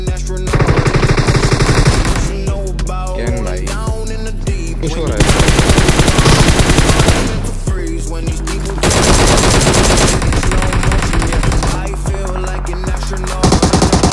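Loud, rapid bursts of automatic gunfire from a PUBG-style battle royale shooter in a 1v3 scrim match, fired in repeated sprays with music playing underneath.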